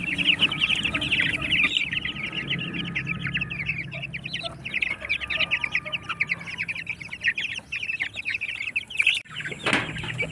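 Chickens clucking in a coop, with a group giving repeated nearby clucks and chirps throughout, joined by a few bursts of wing flapping and scuffling, with no talking.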